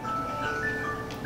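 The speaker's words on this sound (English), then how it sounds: "that's my phone." A mobile phone rings indoors with a steady electronic melodic tone, moderately loud and continuous with no talking over it.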